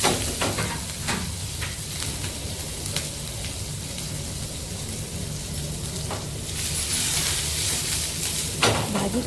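Chopped onion, garlic and curry leaves fry in oil over low heat for a radish pod bhaji, a steady close sizzle and hiss with occasional stirring clinks, swelling louder toward the end.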